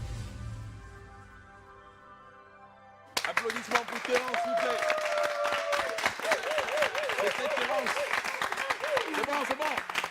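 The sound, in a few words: audience applause for Terence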